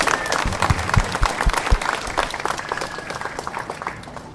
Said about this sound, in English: Yeah, let's clap for them.